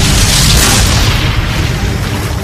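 Union artillery cannon fire at Gettysburg produces a heavy, loud, sustained boom that rolls on with a rumbling roar for several seconds, with no speech over it.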